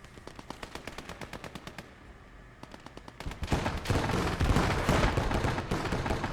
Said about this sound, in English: We do pop a shot on that T-34, but of course it just returns fire and destroys us